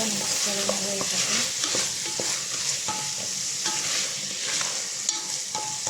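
Tomato and green chilies being stirred into sizzling fried onions in a pan, a steady frying hiss with scraping spoon strokes throughout, close and continuous with no voices.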